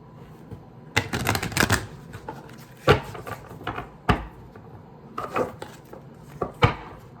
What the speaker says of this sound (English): So I'm gonna shuffle just to make sure that the energy is fresh.